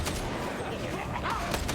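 Continuous gunfire in Warhammer 40,000: Darktide, a dense, busy barrage of shots running steadily through the moment, with a faint voice in the background.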